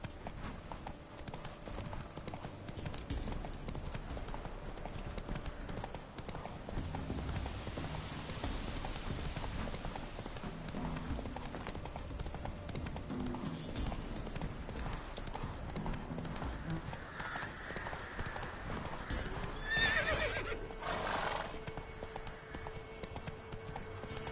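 Roach the horse from The Witcher 3 runs with steady clip-clop hoofbeats throughout, moderately loud over a soft outdoor backdrop, with a brief brighter burst near the end.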